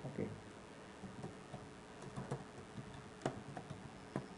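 A computer keyboard is typed on as code is written, giving quiet irregular key clicks in short bursts at close range.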